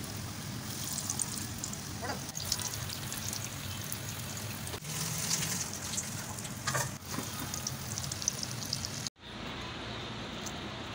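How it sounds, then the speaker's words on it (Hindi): Coated chicken cheese balls fry in hot oil, giving a steady, close sizzle and bubbling hiss that runs nearly unbroken for the whole stretch, with a brief cutoff near the end. "मैं इसको करूँगी फ्राई।"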